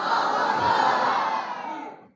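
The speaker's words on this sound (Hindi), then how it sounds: "ये अल्लाह अकबर की आवाज़" A large crowd at a school annual award ceremony roars back a chant in unison, a loud, sustained wall of massed voices that holds steady for about two seconds, then fades.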